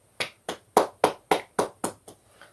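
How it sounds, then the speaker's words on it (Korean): Eight crisp, evenly spaced claps ring out in a steady rhythm, close and fairly loud, as a congregation gives encouraging applause during a Sunday church service. "격려의 박수를 부탁드리겠습니다"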